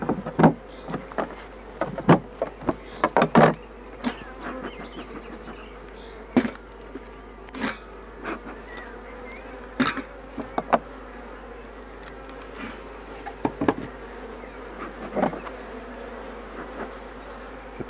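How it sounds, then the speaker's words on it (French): Honeybees of a queenless colony buzz around an open hive on a dull, overcast day, restless and somewhat aggressive, with a steady low drone throughout. Individual bees repeatedly zip close past the microphone as louder, brief buzzing passes. "Les abeilles sont un peu agressives parce qu'elles s'embêtent."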